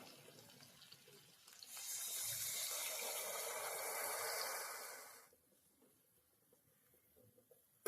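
Water pours into a pan of potatoes frying for aloo chochchori, a steady gushing hiss rising suddenly and running for about three and a half seconds before cutting off, leaving a quiet simmer.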